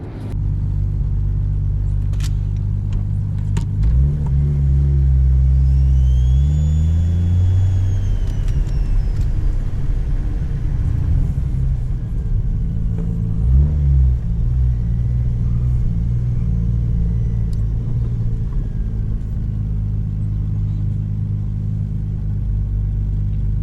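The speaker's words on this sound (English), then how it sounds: "mics hooked up to the exhaust and then one hooked up into the intake, so you can see how good this car sounds" Deep, loud engine and exhaust rumble from a Toyota JZX100 with a 1JZ-GTE engine while driving, recorded at the exhaust and intake, rising and falling as the engine revs up and settles, continuous throughout with no speech.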